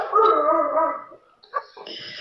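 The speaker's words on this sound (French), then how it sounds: "Esther, Ephraim, si c'est votre chien, il peut très bien suivre le cours, mais en silence." A dog barks and whimpers in the background of a French-language online class, a run of loud, sustained yelping cries at first, then a few shorter, fainter yips after a brief pause.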